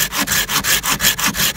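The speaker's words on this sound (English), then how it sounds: "trade me saws, Dave, so you can feel the difference, and just cut this right here somewhere" A hand saw cuts through wood in about eight quick, even back-and-forth strokes, each a loud, close, rasping rub with brief pauses between strokes.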